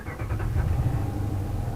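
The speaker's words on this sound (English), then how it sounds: "if we were to start up the vehicle here" A car engine cranks and catches, then settles into a steady low idle that runs close and continuous, with no talk over it.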